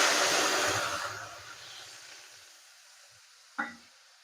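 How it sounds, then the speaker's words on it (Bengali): Lemon juice hits a hot kadai on the gas stove for candy and sets off a loud hiss that slowly fades to quiet, followed by a single sharp clink. "যে লেবু রসটা করে রেখেছিলাম সেই রসটা এখন দিয়ে দেব।"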